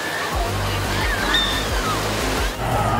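Surf at Jungmun Beach on Jeju, a surfing spot, rolls and washes in a steady, loud roar with sloshing water close by, while people chatter and exclaim over it.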